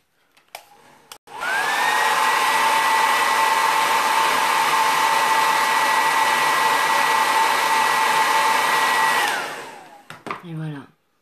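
A handheld hair dryer switches on and runs at a steady, loud whine for roughly eight seconds, then cuts off, with a few soft handling noises before and after.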